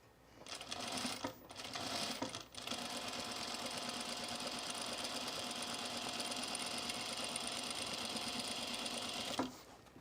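A sewing machine stitches fabric for an apron, a steady continuous mechanical whir running for several seconds after a couple of brief starts and stops, close and fairly loud, ending abruptly.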